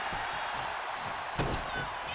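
A clothesline slam lands in a virtual pro wrestling video game, a single sharp impact thump near the middle, over steady crowd noise and game ambience with commentary-like talk around it.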